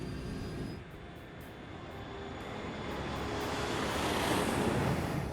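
An airliner climbs just after takeoff with a broad, steady engine roar that slowly swells louder, heard from a distance and without speech.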